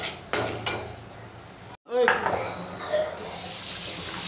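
Red chili powder being stirred into hot oil in a pan for egg curry, with a scraping, sizzling texture, a few sharp clinks of the spoon against the pan, and a brief pause before the sizzle resumes.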